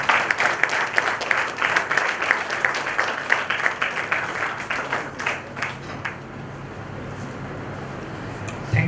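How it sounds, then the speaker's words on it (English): An audience in a conference hall applauds during a felicitation, a thick roar of many clapping hands that swells, then gradually thins and fades toward a quieter room hum. "felicitate Dr. Chandrakant Wagmare sir. Sir, give a big round of applause."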